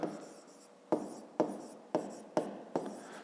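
Pen or pencil writing on paper while working a fifth-grade geometry exercise, a close, soft scratching with several distinct strokes in a quiet room.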